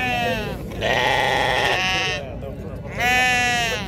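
Sheep bleat loudly and repeatedly at a weekly livestock market in El Hajeb, where Eid sheep and ewes are sold. Three long, wavering calls sound close by over a steady crowd murmur.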